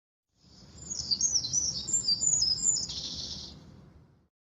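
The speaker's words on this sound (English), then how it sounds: "The swallows have returned early this year." Bright, high-pitched bird chirps and twittering calls in a quick run of notes, fairly close and clear over a low background rumble.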